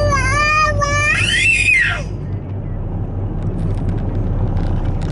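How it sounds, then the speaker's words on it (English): A young girl lets out a loud, high-pitched scream lasting about two seconds, close to the mic over a steady low engine-like hum. The hum carries on alone afterward. "What are you screaming for?"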